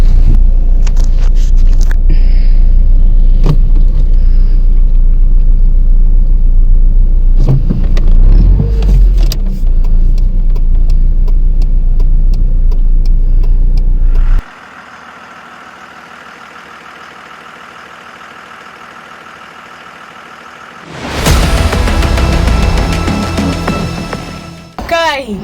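A VW Kombi bus engine drones loud and steady while driving on a road, then drops to a quiet interior hum before swelling back up to a strong rumble near the end.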